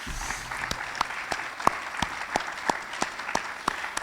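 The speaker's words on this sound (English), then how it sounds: "let's just give them a big round of applause" Applause at a community meeting, a modest spread of clapping with a few distinct, evenly spaced claps standing out over a softer background patter, fairly quiet and close, with no voices heard.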